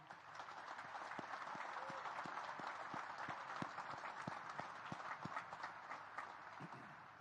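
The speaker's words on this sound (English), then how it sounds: "How about a big round of applause," Applause at the U.S. Naval Academy graduation ceremony, a large crowd clapping steadily and evenly throughout, with some louder individual claps standing out near the microphone.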